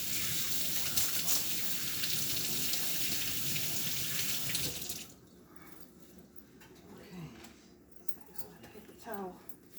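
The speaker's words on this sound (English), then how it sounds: "wash your hands" A kitchen water tap runs while hands are washed under it: a loud, even gush of water for about five seconds, then it stops, leaving quieter drips and handling sounds with a voice faintly in the background.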